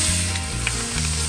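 A burger fries in a cast iron pan on a boat, giving a close, steady sizzle that runs unbroken for just over a second, with a low background hum beneath it and no voices.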